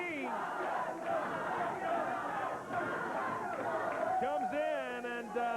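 Crowd at a 1998 Memphis pro wrestling event roars and chants for Jerry "The King" Lawler, a steady loud wall of cheering with shouts and whistles running throughout.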